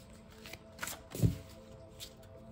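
Gold-edged oracle cards being handled and shuffled, a few soft close riffles and slides separated by short pauses, quiet and without talk.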